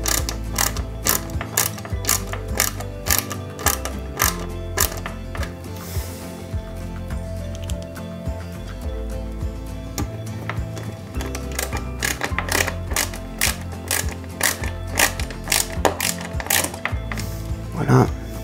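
Small screws are driven in while a 1/8 scale Jaguar E-Type model is assembled, giving rapid ratcheting clicks from a screwdriver in close, repeated bursts with brief pauses between them.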